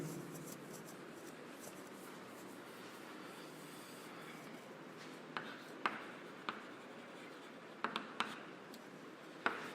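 A hand writes a mathematics formula during a class lesson, with a soft steady scratching and scattered sharp taps of pen or chalk against a quiet room background.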